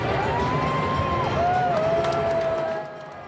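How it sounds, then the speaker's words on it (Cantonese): Large stadium crowd at the US Open men's tennis final, a continuous loud roar of mixed boos and cheers with a high whistle-like call rising above it, easing off near the end. "現場噓聲同歡呼聲夾雜"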